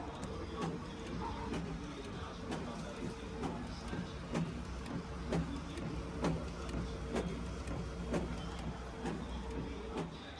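An inkjet-style home printer runs through a print job, its rhythmic mechanical ticks and carriage clunks repeating steadily at moderate volume over a low room hum, with no talk.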